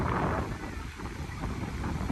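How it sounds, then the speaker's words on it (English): Wind buffets the microphone at Whitecap Beach in Corpus Christi, Texas, a constant loud rumbling roar with slight gusting swells and no voices heard. "it's a little windy out here"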